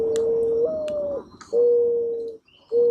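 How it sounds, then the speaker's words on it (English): Brown pigeon calling in a survival video game, a steady clear coo repeated three times with short gaps, close and alone, no voices. "That's the owl I heard. It's a brown pigeon."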